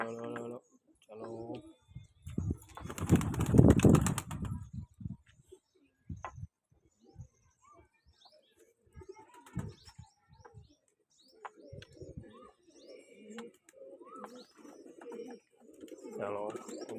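Pigeons coo and flutter as they are shut in for the morning, soft repeated calls and chirps close by, with a loud burst of wing flapping early on and a person talking intermittently throughout.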